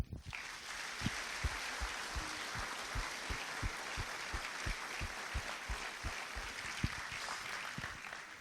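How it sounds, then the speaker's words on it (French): Audience applause at a French swearing-in ceremony, steady dense clapping from a crowd sustained throughout, fairly distant and even, with a few sharper claps standing out near the front. "Donc merci à tout le monde et on peut les applaudir."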